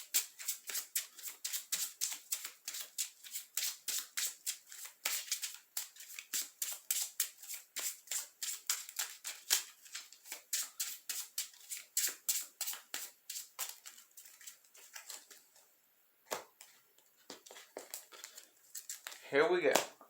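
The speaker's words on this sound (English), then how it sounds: "now for the magicians to get a good shuffle" Yu-Gi-Oh trading cards are riffled and shuffled by hand in rapid repeated bursts of crisp flicking, close and fairly quiet, with a short pause before a final flurry.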